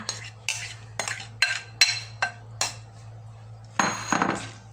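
Metal spoon clinking against a pot while hot sticky rice is mixed into warm coconut cream, a run of sharp irregular scrapes and clinks up close over a steady low hum, without speech.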